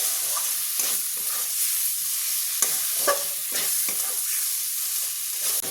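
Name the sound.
stir-frying potatoes and taruli masala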